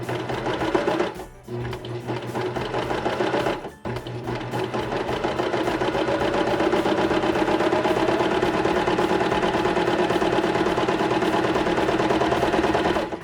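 A serger sewing machine runs steadily as it stitches a frilly fabric hem, its fast, even mechanical whir close and constant after a couple of short stops near the start.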